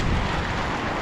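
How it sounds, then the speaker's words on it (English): Rain falls steadily in a dense, even wash of noise, a heavy downpour that holds at a constant level for a moment with no voices. "And it is raining pretty good."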